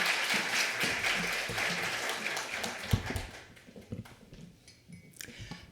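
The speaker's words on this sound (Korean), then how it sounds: "그 마음으로 우리 큰 박수로 맞이해 주시기 바랍니다" A crowd breaks into loud applause that gradually thins out into scattered claps and fades.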